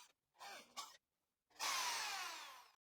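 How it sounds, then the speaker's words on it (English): Brief whirring burst, then a longer high-pitched power drill whine as a 2mm bit bores about a centimeter into wood, close and isolated against quiet. "This time I'll drill with a 2mm drill bit."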